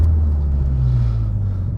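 A Seat Leon Cupra R with a 1.8T BAM 225 engine gives a deep, steady close-up rumble for under two seconds, with no voices.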